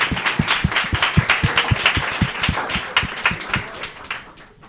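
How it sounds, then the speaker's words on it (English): Telethon audience clapping, a brisk run of quick, sharp claps at close range that thins out and fades toward the end. "Please give them a round of applause for their efforts."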